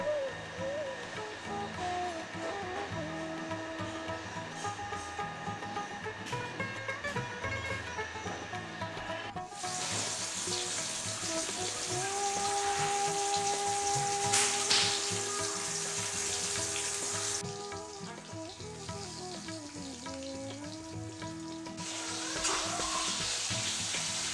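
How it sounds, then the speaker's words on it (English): Papad is frying in hot oil in a home kitchen, with a steady sizzle and crackle that flares louder in the middle. Tonal hums and other kitchen noise run underneath. "My mom prepares papur by frying it on oil"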